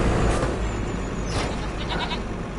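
Sheep bleating in the Farming Simulator 25 video game, set on a farm in Scotland, heard as a short, fairly loud burst of bleats over a steady game background.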